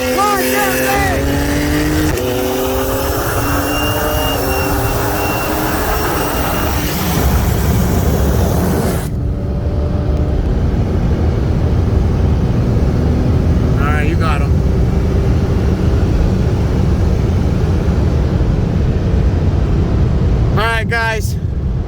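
A 2018 BMW 340i with downpipes and a 2011 BMW 335is with 19T turbos on E85 race each other from a 60 mph roll, their engines roaring loudly and rising through gears, with wind noise and a speaking voice at the start.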